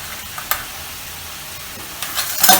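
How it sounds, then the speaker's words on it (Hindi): Radish leaf sabzi with coriander powder, turmeric and garam masala being stirred in a pan over low heat, a soft continuous sizzle with occasional spoon scrapes that grow busier at the end. "अब सब चीज़ों को अच्छे से मिक्स करेंगे।"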